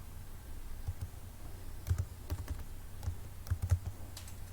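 A new password typed on a computer keyboard, soft clicking keystrokes in uneven bursts with small pauses, heard up close and quiet, no speech.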